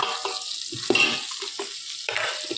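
Onions, crushed garlic, ginger and green chili with a little salt sizzle in a pan while being stirred, giving a steady hiss broken by scraping strokes and soft clatters, close and alone without speech.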